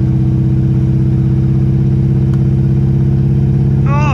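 A 4x4 Chevy Blazer with two flat tires, its engine running loud and close with a steady throbbing drone before a rising whine in the final moment.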